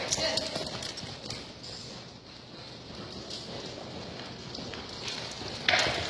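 A horse lopes in circles on a longe line during reining training, its hoofbeats a steady rhythmic clip-clop on soft ground at moderate distance, with a person's voice heard faintly at times.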